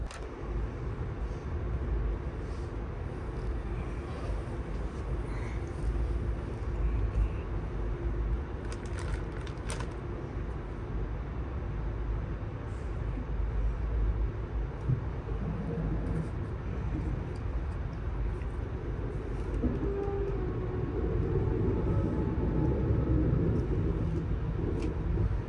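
Aboard the Amtrak Auto Train pulling out of the station, a steady low rumble of rolling wheels and car noise fills the space throughout, with faint clicks and rattles and no voices.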